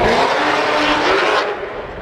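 A loud Cadillac engine revving hard at a car meet, roaring steadily before dropping off abruptly.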